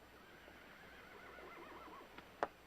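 A horse whinnies in a quiet outdoor scene, a faint drawn-out neigh with a couple of sharp sounds near the end, no voices.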